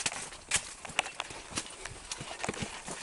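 A small horse walks along a rural trail in San Carlos, its hooves clip-clopping in an uneven, fairly quiet rhythm of distinct knocks with soft ambient noise between.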